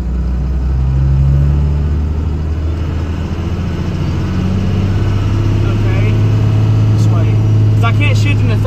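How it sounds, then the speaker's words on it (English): A semi truck's engine drones loudly in second gear, a steady low rumble with rising and falling tone throughout, close by, while people talk over it. "This is second gear, just listen."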